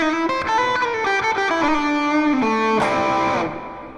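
A fast pentatonic rock lick on a distorted electric guitar, played up to speed as a quick run of sustained notes that climb, slide and ring out loud and close, with no talking.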